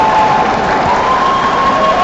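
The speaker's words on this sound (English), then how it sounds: "everyone is cheering for the Dragon Ball event in Europe" Crowd at a Dragon Ball card game tournament at the Pyrkon convention in Poland breaks into continuous, loud clapping and cheering, a steady wash of hands and voices with no pause.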